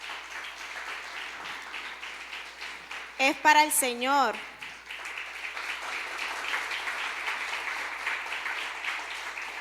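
A church congregation claps steadily throughout an evening service; the applause stays broad and continuous while a voice briefly speaks over it partway through.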